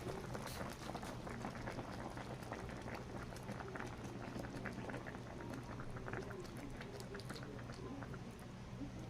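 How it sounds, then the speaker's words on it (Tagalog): Coconut cream simmers and bubbles in a pot for Bicol pinangat, a steady faint bubbling with quick popping blips throughout. "Pakulo ulit tayo ng 30 minutes ulit."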